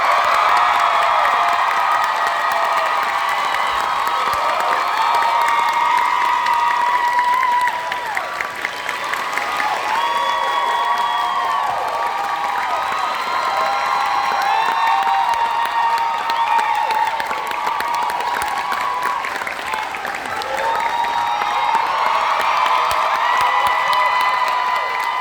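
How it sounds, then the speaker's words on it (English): A large audience at a film Q&A applauds and cheers for director Chris Sanders. The dense, sustained clapping is mixed with whoops and shouts, and it carries on loud and unbroken throughout. "Don't clap for me, clap for him."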